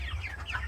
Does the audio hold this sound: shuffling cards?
no